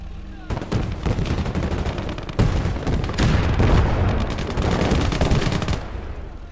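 Artillery and gunfire roar through a Call to Arms: Gates of Hell battle on the Eastern Front between USSR and German forces, with dense overlapping shots and blasts pounding almost continuously at high volume.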